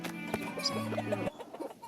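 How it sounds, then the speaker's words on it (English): Chickens clucking nearby, a few short soft clucks over steady outdoor background noise with a low droning tone underneath. "Hey, chickens!"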